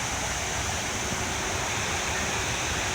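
Iguazu's many waterfalls thunder in a steady, dense broadband roar, close and loud with no voices, the wall of falling water unbroken for the whole stretch.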